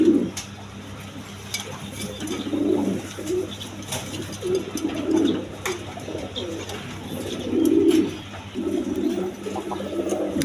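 A pair of Chinese owl pigeons coos in soft, rolling bursts at a poultry farm, several calls spaced across the stretch over a low background hum, with faint clicks and no talk.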